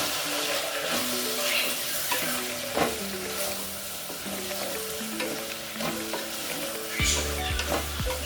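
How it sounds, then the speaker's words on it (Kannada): Chilli powder and vangi bath spice powder get stirred in a hot pan for Karnataka-style vangi bath, a continuous oily sizzle with scraping strokes up close, while a faint melodic tune runs underneath. "ಖಾರ ಪುಡಿ ಹಾಕ್ತಿದ್ದೀನಿ ಹಾಗೆ ವಾಂಗಿಬಾತ್ ಪೌಡರು ಎರಡು ಸ್ಪೂನ್ ತಗೊಂಡಿದ್ದೀನಿ ಕ್ಲೀನಾಗಿ ಮಿಕ್ಸ್ ಮಾಡ್ಕೊಂಡು"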